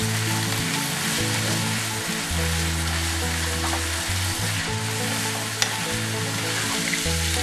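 Seasoned ground beef, flavoured with Montreal steak seasoning, sizzles loudly in a pan while being mixed around, a dense continuous frying hiss with low scraping stir sounds underneath.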